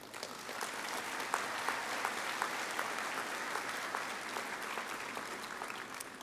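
Graduation audience at a liberal arts college ceremony gives sustained, even applause welcoming the chancellor, a dense field of many hands clapping with no voices over it.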